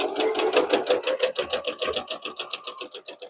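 A sewing machine runs steadily, stitching a quarter-inch seam around a fabric basket made from layer cake squares, its rapid needle rhythm close and continuous, with a brief pause as the fabric pivots at a corner.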